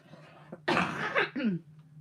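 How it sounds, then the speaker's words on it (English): A single harsh cough bursts out up close, followed by a shorter second cough, with a faint hum underneath. "I'm gonna cough."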